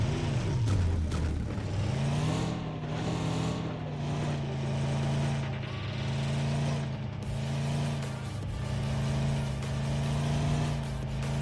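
A vehicle drives in a PUBG-style battle royale game, its engine droning loud and close throughout and rising and falling in repeated revving swells.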